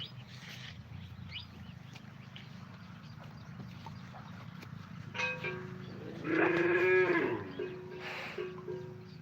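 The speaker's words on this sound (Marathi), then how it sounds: "बघा ही गाय आमची" A cow moos once, loud and close, on a farm over steady low rumbling background noise, with softer animal sounds nearby.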